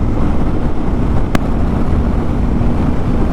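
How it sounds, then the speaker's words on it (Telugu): Wind blasting loudly against a motorcycle helmet while riding near Bangalore, a heavy continuous rumbling roar that buffets evenly throughout, with one brief sharp click partway through. "డైరెక్ట్గా మొత్తం వచ్చి హెల్మెట్ కొడుతుంది విండ్ మొత్తం."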